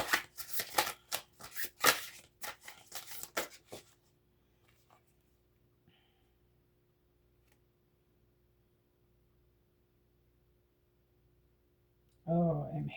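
Tarot cards being shuffled by hand, heard as a few seconds of close, crisp riffling and slapping bursts. A long near-silent stretch follows, then a voice speaks.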